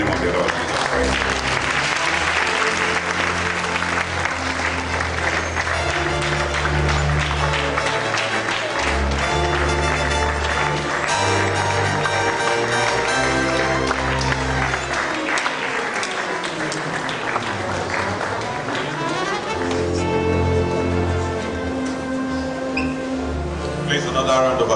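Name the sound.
applause for inaugural lecture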